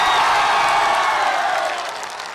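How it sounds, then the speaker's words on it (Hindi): A large rally crowd claps and cheers loudly for Bhojpuri superstar Khesari Lal, a dense continuous wash of applause that fades slightly toward the end. "बिहार वाली, यूपी वाली जो ताली होती है जोरदार बजा के बताइए।"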